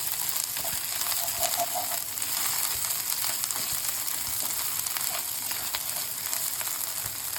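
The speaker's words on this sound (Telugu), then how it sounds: "గార్లిక్ పేస్ట్ యాడ్ చేసిన తర్వాత పచ్చి వాసన పోయేదాకా వేసుకోవాలి." Garlic paste sizzles with onions in a hot pan while a paneer cashew curry is cooked, giving a steady, close, dense frying hiss with small crackles that holds evenly throughout, with no voices.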